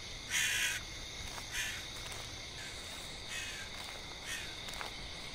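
Repeated crow caws from a horror video game set around a store, several distinct calls spaced across a steady ambient hum, moderately loud with no talking.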